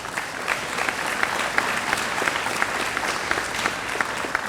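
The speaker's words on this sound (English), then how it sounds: "Give yourselves a big round of applause for all the hard work." Steady, dense applause from a large crowd at a high school honors night, with a brief cheer or two rising through the continuous clapping.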